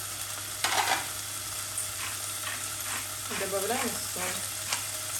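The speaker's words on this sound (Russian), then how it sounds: "И обжариваем филе до такой слегка золотистой корочки" Chicken fillet fries in a pan as a pizza filling, with a continuous soft sizzle and a few utensil clacks, while a voice speaks briefly over it.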